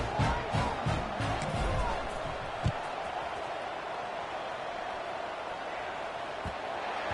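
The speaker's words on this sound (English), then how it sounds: "this crowd is buzzing after that last score" A stadium crowd in the College Football 26 video game buzzes steadily after a touchdown, a broad, even roar that holds for the whole stretch with a couple of soft thumps.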